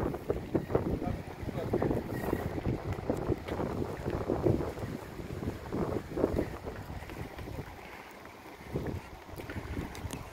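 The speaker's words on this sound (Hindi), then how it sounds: "स्वीडन में ये टैक्सी भी देखी है, जो कि बोट टैक्सी है।" A boat taxi in Stockholm runs across the water, its engine rumbling under gusty wind noise and splashing, with people speaking intermittently.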